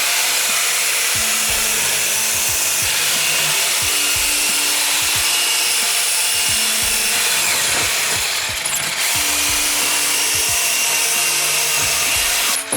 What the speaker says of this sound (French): je vais la découper à la scie sauteuse pour avoir mes 60 cm de long